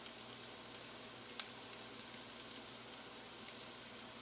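About a teaspoon of minced garlic sizzles in a frying pan with a soft, steady crackle, close and fairly quiet, and a few tiny pops stand out.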